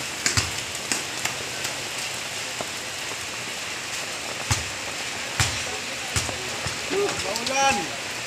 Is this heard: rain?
yes